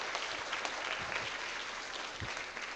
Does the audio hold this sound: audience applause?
yes